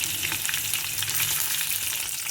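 Steady, dense crackling and sizzling of ingredients frying in hot oil, loud and continuous throughout, with no talking.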